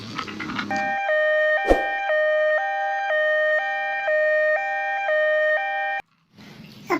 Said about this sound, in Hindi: एम्बुलेंस को लेके जाना पड़ेगा।